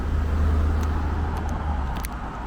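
A Toronto TTC bus, unit 7071 on the 59A Maple Leaf route, rumbles past on Maple Leaf Drive in North York, a deep steady engine drone close by with traffic hiss around it.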